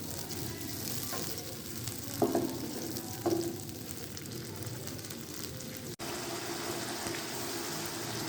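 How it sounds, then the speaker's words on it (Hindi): Spices fry for an anda channa gravy in a pan over a medium-high flame, giving a steady, close sizzle with a couple of brief stirring clatters and no talking. "और हम इसको फ्राई कर लेंगे। फ्लेम आपने मीडियम से थोड़ा सा हाई कर दें, ताकि ये जल्दी से फ्राई हो जाए।"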